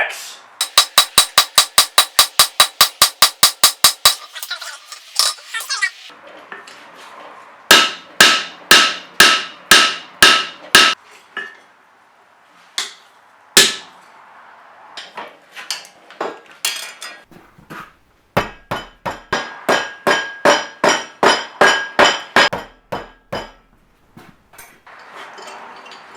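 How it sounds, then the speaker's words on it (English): Hammer cross-beating hot steel on an anvil while forging a bearded Viking axe: bursts of rapid, ringing metallic strikes in quick rhythmic runs, separated by short pauses, loud and close. "So right now I'm cross beating the steel to add width."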